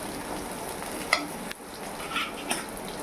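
Chana dal roasting in a pan with a continuous dry sizzle, broken by a few light scrapes and clicks as it is stirred, close up with no talking.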